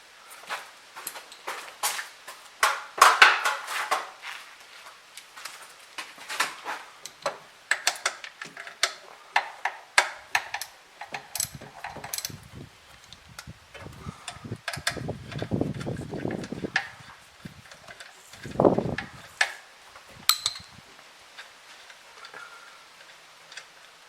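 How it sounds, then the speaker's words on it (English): Loosening and removing the top water pump bolt on a Toyota 1ZZ-FE engine in a Pontiac Vibe: a long run of close, irregular ratchet clicks and metallic ticks, with a few duller knocks and scrapes partway through, no talking. "I'm going to set this aside and now take out the top bolt"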